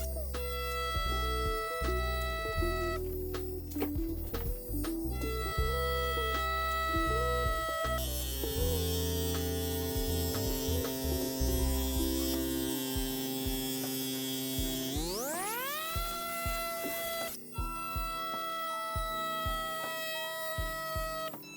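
A tattoo machine runs continuously on artificial skin during a test, giving a steady electric buzz with a strong hum that holds for the whole stretch and briefly rises in pitch near the end.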